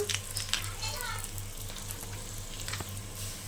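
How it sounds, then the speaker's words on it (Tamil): Ginger garlic paste frying with sautéed onions in a pan for mushroom biryani, a steady soft sizzle with a low hum underneath and occasional light stirring clicks. "இப்போ நம்ம இஞ்சி பூண்டு பேஸ்ட்டு போட்டுக்கலாம்"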